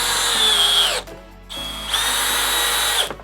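A 12-volt cordless hammer drill in drill mode, speed 2, whirs loudly in two bursts, bogging down slightly as each 3.5-inch deck screw drives in, with a brief pause between.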